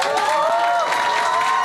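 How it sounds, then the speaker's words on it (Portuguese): A church audience greets a visiting preacher with loud, close applause mixed with cheering and excited shouts, a dense continuous burst with no speech over it. "Vamos a recibirlo con aplausos."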